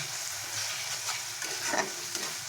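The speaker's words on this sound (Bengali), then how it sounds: "এই কষার মধ্যে আমি কাঁচা লঙ্কা আর সর্ষে বাটাটা দিয়ে দিলাম" Spices stir-fried with green chilli and mustard paste in a pan make a dense, moderate sizzle, broken by several scraping stirs of a spatula, with no speech.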